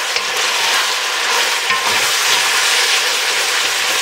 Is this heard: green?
yes